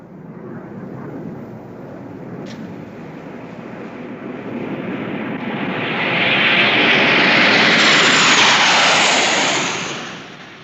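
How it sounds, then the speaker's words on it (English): Royal Canadian Air Force Sabre jet fighters roar overhead in West Germany, a broad rushing drone that swells as the aircraft approach and pass, then fades at the end. "Sabre jets of the Royal Canadian Air Force."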